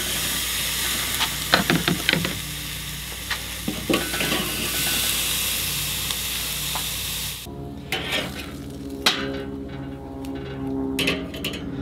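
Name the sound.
searing sausage burgers in a pan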